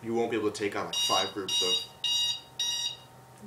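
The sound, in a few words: alarm going off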